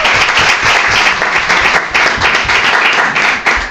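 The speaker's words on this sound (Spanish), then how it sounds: "la correcta es la B. Un aplauso." Studio audience applause on a Spanish television quiz-style show, a dense, loud burst of clapping that continues steadily throughout.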